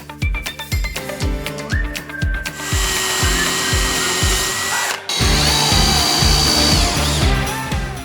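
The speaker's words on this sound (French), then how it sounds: "Je peux maintenant visser l'arrière de la tablette centrale. Cette fois-ci, on va la visser au chevron par devant." Power screwdriver driving screws through a shelf into a wooden rafter while assembling a balcony bar, with repeated short whirring bursts giving way to a longer sustained run, close and loud.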